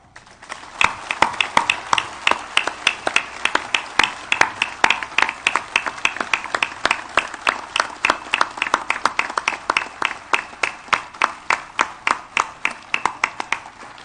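An audience at a municipal government swearing-in ceremony in Ciudad Isla, Veracruz claps steadily in a tribute, with sharp, close, rhythmic hand claps that settle into a unified beat for a long stretch.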